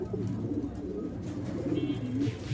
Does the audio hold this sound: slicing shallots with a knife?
no